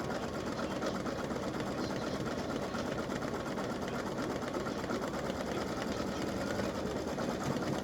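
An embroidery machine stitches an appliqué design with text over existing fill, a steady, unbroken mechanical whirr and rapid needle chatter at even loudness throughout.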